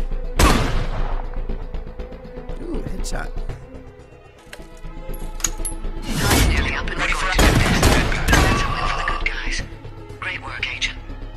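Rapid bursts of gunfire and booming shots from a mixed reality shooter game, loud and repeated in clusters across the clip, mixed with players' excited talk.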